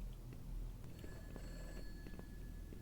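An in-game phone rings in the horror game Those Nights at Fredbear's, a 2015 remake, as a faint repeating electronic bell in a quiet, hushed room tone.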